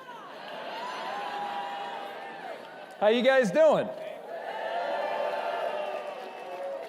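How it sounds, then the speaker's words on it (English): A big conference crowd at the Conservative Political Action Conference (CPAC) cheers and whoops in a broad, steady wash of noise that rises to a loud burst, with someone talking over it. "Man, that is a big crowd."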